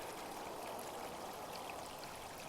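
Creek water flows steadily along a creek bottom in the evening, a constant soft rushing and trickling wash with no talk over it.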